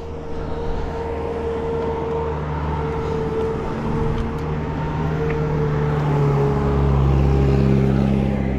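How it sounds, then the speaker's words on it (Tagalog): A vehicle on a winding mountain road, its engine droning steadily nearby and swelling louder toward the end as it draws close, under constant road and wind rumble. "May sasakyan ha."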